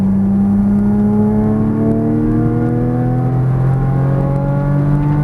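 Porsche Cayman GTS engine on a race track, a steady loud drone with rising harmonic sweeps as the revs climb under throttle, heard from inside the car with no one talking.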